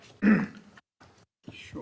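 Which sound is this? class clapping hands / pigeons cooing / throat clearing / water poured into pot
throat clearing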